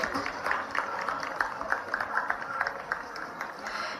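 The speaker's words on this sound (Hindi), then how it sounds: "तालियां निरंतर बजती रहे" An audience at an award ceremony for women's self-help groups claps steadily, a dense run of many hands patting at moderate volume with a faint voice or two underneath.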